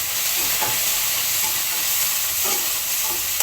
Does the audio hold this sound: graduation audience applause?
no